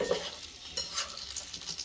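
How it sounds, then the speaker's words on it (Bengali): A large egg fries in a small pan in a mini kitchen, soft continuous sizzling with a few scraping stirs, close and fairly quiet. "একটা বড় ডিম ভাজলাম"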